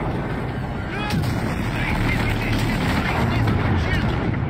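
Rapid gunfire and heavy artillery-like blasts from turrets in a video game space battle against a super freighter, continuous and loud, with voices talking over the combat.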